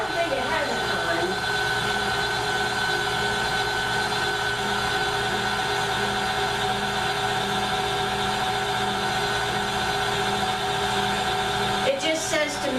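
An electric mixer beats a white chocolate mousse mixture with a steady, loud, continuous whirr and no break, ending with a brief clatter near the close.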